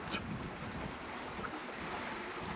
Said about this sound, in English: We've got 32 knots of wind, 34 knots of wind, and hitting 8 knots.